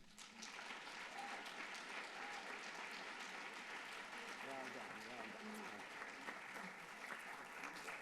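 An audience at an Aspen Institute evening talk applauds steadily to welcome Dr. Ellen Langer, a dense sustained clapping from a large crowd filling the room for about eight seconds.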